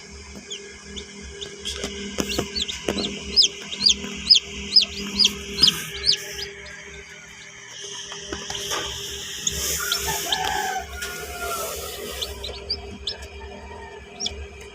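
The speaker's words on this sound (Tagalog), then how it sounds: "So ito yung nauna kong mga sisiw. Yan, may kasama pang itik." Young chicks and a duckling from an incubator peep and chirp in a rapid, repeated series of high calls, fairly close and steady, with no talking over them.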